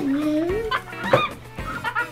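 A hen clucks with a few short bird calls, including a rising chirp at the start, close and fairly clear over a quiet background hum.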